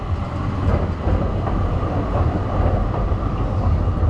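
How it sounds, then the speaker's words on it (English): Tram on a city street in The Hague passing close by, a continuous loud rolling rumble with faint wheel noise and street ambience, no talking. "What a nice tram going to Delft"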